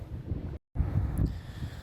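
Strong wind buffets the microphone with a low, roaring rumble, briefly cutting out before the gusting resumes.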